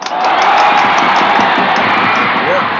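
A crowd claps and cheers loudly and steadily, with a few whoops and voices mixed into the dense applause.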